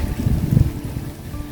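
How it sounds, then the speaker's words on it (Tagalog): Strong wind buffets the microphone outdoors among coconut and chico trees, a continuous low roaring rumble with gusty surges. "Ayan, mahangin ngayon."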